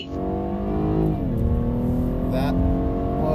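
A car on a public road launches hard from standstill as a timed quarter-mile run, its engine revving up, dipping briefly at a shift and climbing again, loud and close, with faint voices underneath.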